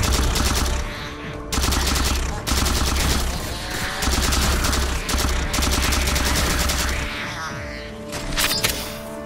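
Assault rifle fire in Halo 4, heard as loud, rapid automatic bursts in several long strings separated by short pauses, up close and dominant, with game sound effects in between.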